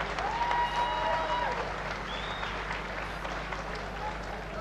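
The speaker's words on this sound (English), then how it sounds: "Let's have a round of applause for Roy Van Putten from the WBC all the way from Aruba." A boxing crowd at a WBC title fight in Israel applauds an official, a diffuse wash of clapping heard from a distance, fairly quiet and steady, with faint whistles and voices mixed in.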